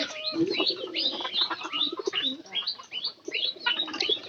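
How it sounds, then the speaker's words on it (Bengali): Local pigeons cooing and calling near a home where chickens are kept, several overlapping rolling coos repeating in a steady rhythm, fairly close and clear with no talk. "এলাকার কবুতর"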